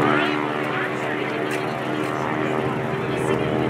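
A 600-horsepower aerobatic propeller airplane at full throttle over the Leesburg airshow grounds, a loud, steady engine roar filling the whole stretch, with a voice talking over it.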